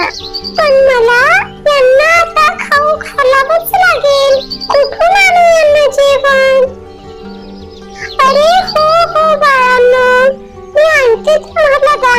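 Newborn puppies whimper in a close, loud run of high-pitched rising and falling whines, several overlapping cries coming in bursts with short pauses between them.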